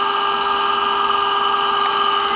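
An electric motor on a test bench runs under load at steady speed, giving a constant tonal hum and whine with no change in pitch or level, close and unaccompanied by speech.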